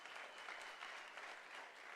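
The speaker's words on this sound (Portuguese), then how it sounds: "Se você está aplaudindo o Senhor, faça isso com mas muita vontade, muito entusiasmo." Applause from a church congregation during an advanced leadership training service, a steady wash of many hands clapping throughout at moderate distance, with no talk over it.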